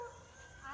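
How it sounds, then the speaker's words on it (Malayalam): Dogs barking and yipping nearby in a brief burst, outdoors at a home garden, fairly faint and mixed with low background noise. "അപ്പോൾ നായ്ക്കളുടെ ഭയങ്കര ശല്യം കേട്ടോ ഇവിടെ."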